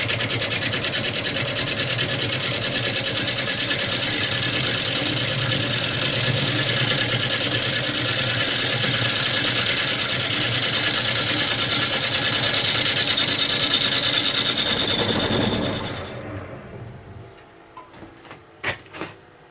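A wood lathe spins an off-balance mesquite bowl blank at 500 RPM, a loud steady motor hum with a vibrating drone that winds down and stops near the end, followed by a few faint knocks.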